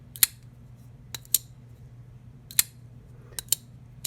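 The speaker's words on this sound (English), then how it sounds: "the high-pitched sound of the knife as it snaps back into place and the detent catches" Folding knives in titanium and aluminum snap shut, each close producing a sharp, high metallic click as the detent catches; about six crisp clicks sound close up, irregularly spaced, over a quiet low hum.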